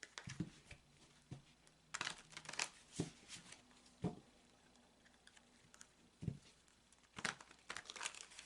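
A tarot deck is shuffled by hand in quiet, soft bursts of riffling and crinkly card noise separated by pauses, with a few sharper taps.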